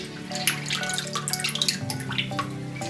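Water drips and trickles steadily as boiled winged beans drain, a close, continuous patter of drops with no one talking.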